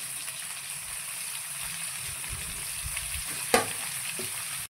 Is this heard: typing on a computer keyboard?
no